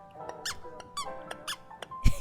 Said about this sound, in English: It squeaks because it's an angry frog.